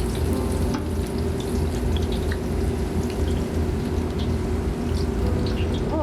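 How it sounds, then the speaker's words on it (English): Purple sweet potato chips frying in hot oil, a steady dense sizzle and bubbling that holds evenly for several seconds, close and fairly loud with no talking. "So I learned over the years that when you're frying, you're taking the moisture out of it."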